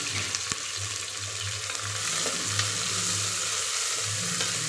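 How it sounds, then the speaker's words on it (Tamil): Onion, garlic, curry leaves and green chilli sautéing in a pan, a steady close sizzle and crackle of frying with occasional stirring clinks and scrapes, no talk. "இப்போ இது கூட நம்ம எடுத்து வச்ச வெங்காயம், பூண்டு, கருவேப்பிலை, பச்சை மிளகாய் எல்லாத்தையும் சேர்த்துக்க போகிறோம்"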